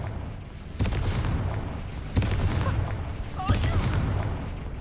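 A Confringo fire spell in the Hogwarts Legacy video game, three sharp blasts spaced about a second and a half apart, each booming hit trailing off into a rumble, with a voice calling out partway through.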